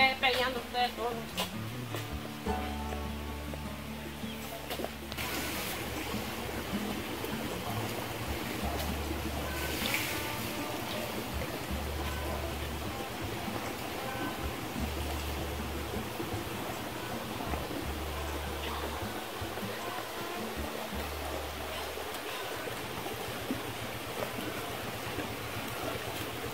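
River water streams in a video game, a soft, steady wash of flowing noise that runs under Spanish-speaking voices, with a low repeating musical hum in the background.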